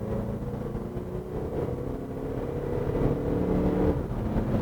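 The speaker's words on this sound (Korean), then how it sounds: "그래서 다시 한번 이렇게 풀 가속을 밟아보면" Audi Q5 Black Edition with a mild hybrid system and 204 horsepower under full acceleration, a low engine drone heard from inside the cabin that builds gradually in loudness and pitch over several seconds.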